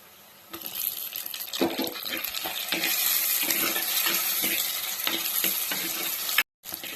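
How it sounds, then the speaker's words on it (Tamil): Tomatoes sauté with onion and garlic in a pan, a close, steady sizzle with spoon scrapes and clinks of stirring, cut off by a brief silence near the end. "இப்போ தக்காளி வதங்கிட்டு இருக்கு"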